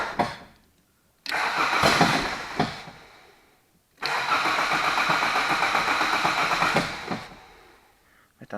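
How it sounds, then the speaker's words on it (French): Diesel engine being run on petrol, cranked twice on the starter motor: two long bursts of rough, rapid churning, the second longer, each ending as the engine falls quiet, with someone speaking between them. "mais ça tourne nettement mieux au démarreur"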